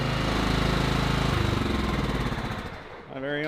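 Petrol lawnmower with a push-button start, its engine running loud and close with a steady throbbing drone that dips briefly near the end before picking back up.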